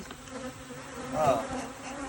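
A dense, continuous buzz of many bees hums steadily throughout, close up, with one bee droning louder as it passes near.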